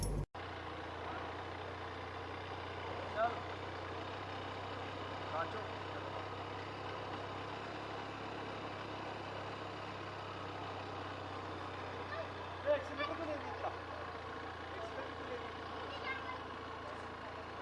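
A Benelli TRK502 motorcycle engine idles steadily with a low, even drone throughout, set against faint outdoor background activity in the Spiti Valley, Himachal Pradesh, with no talk over it.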